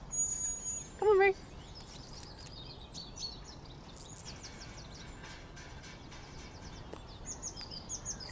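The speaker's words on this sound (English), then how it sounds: "Isn't it lovely hearing the birds of spring?" Spring birds sing in a garden, their bright chirps and short trilling calls scattered through the clip at moderate distance, with one louder burst of song standing out near the start.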